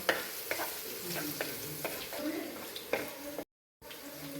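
Small onions frying in a pan for beef curry, a steady close sizzle with repeated scraping stirs of a spoon and occasional knocks, carrying on evenly before a brief cut.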